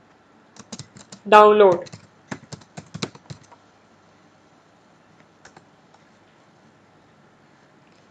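Fingers tap on a computer keyboard in a brief burst of light clicks around a single spoken word, then the room falls quiet with a faint background hum.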